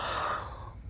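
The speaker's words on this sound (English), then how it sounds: "There I go yawning" A single person lets out a breathy, drawn-out yawn up close, the airy exhale fading away after about half a second.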